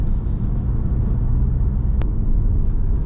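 Steady low road rumble inside a 2023 Toyota Corolla Cross cruising around town at about 60 km/h, a continuous muffled drone of engine and tyres with one brief click partway through.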